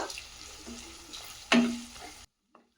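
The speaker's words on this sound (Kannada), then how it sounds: "ಈರುಳ್ಳಿ ಸ್ವಲ್ಪ ಟ್ರಾನ್ಸ್ಪರೆಂಟ್ ಕಲರ್ ಆಗೋವರೆಗೂ ಬೇಯಿಸ್ಕೊಂಡ್ಬಿಡೋಣ" Chopped onions and two dried red chillies being fried in a pan for a restaurant-style paneer lababdar gravy: a soft steady sizzle with scraping stirs and one sharper clatter near the end, close by, then sudden silence.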